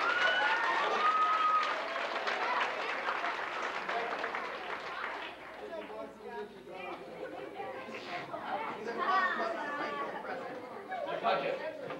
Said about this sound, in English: so let's all give them a big hand.